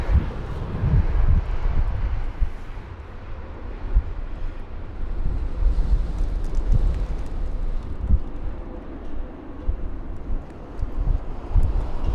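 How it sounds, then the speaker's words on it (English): An Etihad jet rolls along the runway at London Heathrow on a windy day, giving a steady, heavy engine roar mixed with gusting wind buffeting the microphone that holds unbroken throughout. "There's the Etihad jet that's going to be vacating off the runway ahead of the arrival of the Gulf Air jet."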